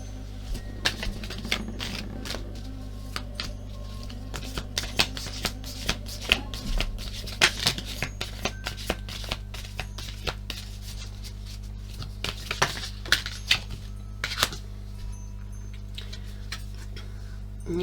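Mantra cards are shuffled close to the microphone in a long run of quick riffling flicks and soft taps over a steady low hum, with no talking.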